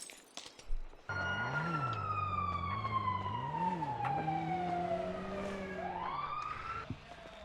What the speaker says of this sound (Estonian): Mingi politseiauto on siin, peaks rutti laskma.